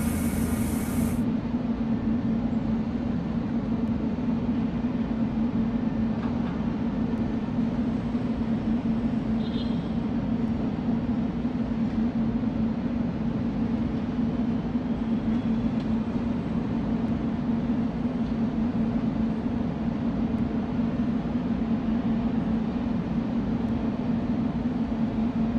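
Travego 18 SHD bus in Bus Simulator Ultimate, a steady engine drone with a low hum running evenly for the whole stretch, alone with no voices.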